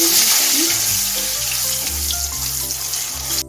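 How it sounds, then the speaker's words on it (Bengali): Potato and cauliflower pieces fry in oil left over from frying fish, a steady, dense close-up sizzle with stirring clatter running through the whole stretch before it cuts off abruptly. "এখন আমি মাছ ভাজা তেলে আলু ফুলকপিটা বেজে নেবো"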